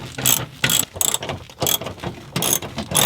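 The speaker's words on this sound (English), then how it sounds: "I'm using a ratchet with a deep socket 10 millimeter, and that's enough to clear this wiring bundle here" A hand ratchet with a 10 mm deep socket turning bolts on the rear bumper of a B7 Audi RS4: bursts of sharp clicking pawl strokes in quick repeated runs, close and loud, separated by brief pauses.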